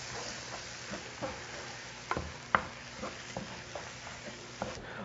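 Spoon stirring flour into cooked-down, caramelized onions in a pot, gentle sizzling under a series of soft scraping strokes and a few sharper knocks against the pot, close and fairly quiet.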